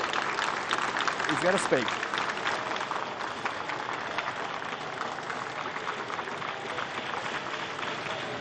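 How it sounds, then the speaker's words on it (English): Applause and crowd noise as the new prime minister, Boris Johnson, walks from his car to the lectern, a steady wash of clapping, with a voice talking over it. "Oh, yep, we're getting the round of applause."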